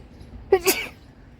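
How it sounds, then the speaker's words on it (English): A single short, sharp human sneeze indoors, a quick burst standing alone against quiet background. "Sorry, I had to sneeze."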